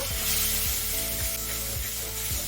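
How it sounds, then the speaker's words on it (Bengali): Spiced masala sizzles loudly in a pan after water is poured in, a steady dense hiss with a soft rhythmic scrape of stirring about every half second. "এতে জল দিচ্ছি মশলাটা যাতে পুড়ে না যায় সেজন্য"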